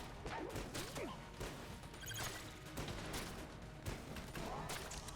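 Dense bursts of video game gunfire from a Crown of Bullets attack, rapid overlapping shots, impacts and whooshes forming a continuous barrage at moderate loudness.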